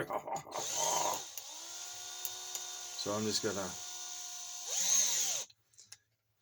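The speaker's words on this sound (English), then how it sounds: "With a round punch, we're going to use a drill." A power drill whines in sustained bursts, revving up and down, used with a round punch for leather tool maintenance, with someone speaking briefly at the start and a short pause between runs.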